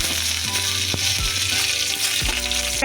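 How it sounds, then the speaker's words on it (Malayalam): Dried red chillies and curry leaves hit hot oil in a pan already crackling with popped mustard seeds, giving a loud, close, busy sizzle with sharp spits and pops throughout. "ഇതിനകത്തോട്ടിനി മൂന്ന് വറ്റൽ മുളക് ഇടുകയാണ് കറിവേപ്പില"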